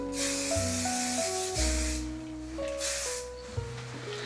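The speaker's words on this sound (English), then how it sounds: "I use the Sebastian Shaper Plus spray to hold my curls" Three short hissing bursts of Sebastian Shaper Plus hair spray over steady background music, each a second or less.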